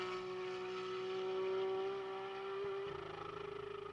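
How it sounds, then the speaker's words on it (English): A GT race car engine at Sonoma holds a steady high-pitched drone, then bounces against the rev limiter with a stuttering, pulsing buzz near the end. "Just into the rev limiter, you can hear it there."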